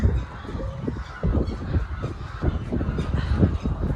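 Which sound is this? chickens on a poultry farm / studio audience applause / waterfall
chickens on a poultry farm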